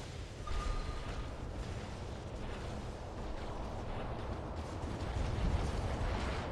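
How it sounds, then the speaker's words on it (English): Hurricane rocket weapon firing in the War Robots game, a dense continuous rumble of launches and blasts at steady moderate loudness, with no clear talk over it. "That guy's firing hurricanes or something."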